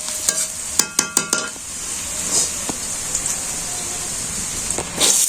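Green chilies frying in a pan in a village kitchen: a steady bright sizzle runs throughout, with a quick run of sharp utensil clicks early on and another knock near the end, and no talking.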